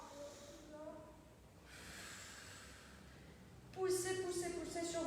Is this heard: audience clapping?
no